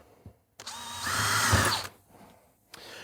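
A power drill whirs up and bores a hole through a Ford RS200 car panel for about a second, its pitch shifting as it cuts, then stops; quieter tool sounds follow.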